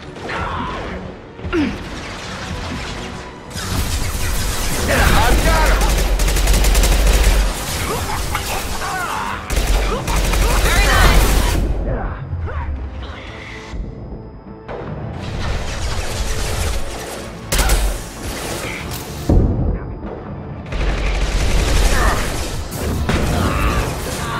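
Bursts of weapon fire and impacts in the video game Mass Effect 2 come in loud, dense volleys separated by short quieter gaps, mixed with game effects and occasional character voices.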